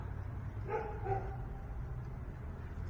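Dogs give two short barks at a distance, outdoors in cold weather, over a low, steady background rumble.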